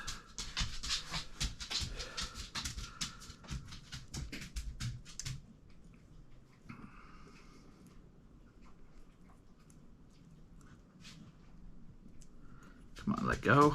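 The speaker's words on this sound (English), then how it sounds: "My dog's entering the room with me." Dog moving around a room beside a parked 2007 Toyota 4Runner, with rapid faint panting and soft clicking of claws, quiet and close, then a brief burst of noise at the end; a person speaks nearby.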